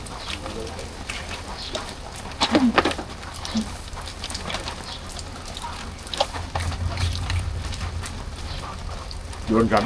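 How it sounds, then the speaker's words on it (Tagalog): Steady rain patters on a surface throughout, with voices talking intermittently over the constant wash. "Ano ulan dito? Walang tigil?"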